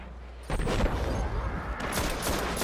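Gunfire in the video game Destiny, a burst of shots cracking out mid-clip over a steady rumbling game background, moderately loud and close.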